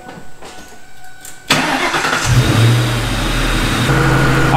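A car engine cranks and catches after a quiet interval, then settles into a loud, steady idle hum with a slight rise in revs, close by, with no talk.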